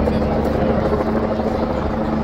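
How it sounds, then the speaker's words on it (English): Helicopters pass overhead near the arches during a royal guard event, a steady, loud rotor roar that fills the whole moment with continuous throbbing noise. "Helicopters above us."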